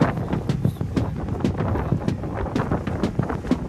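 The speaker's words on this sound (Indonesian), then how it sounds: "dan angin disertai hujan pun masih terjadi." Wind and rain batter a campsite tent on Mount Prau in a storm, with gusty rumbling buffets and repeated flapping thumps of fabric rising and falling, close and fairly loud, no talking.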